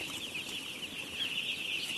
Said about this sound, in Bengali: মুরগি বাচ্চা এখানে আছে।